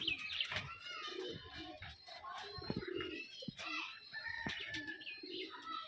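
Pigeons kept in confinement eating brick chips: soft cooing and sharp pecking taps, with occasional wing rustles, quiet and close.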